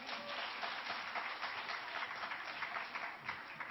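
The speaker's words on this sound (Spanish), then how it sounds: "¡Un aplauso para Antonio!" Audience at a science show for kids applauding a helper named Antonio, steady massed clapping heard faintly and evenly throughout, with no talk over it.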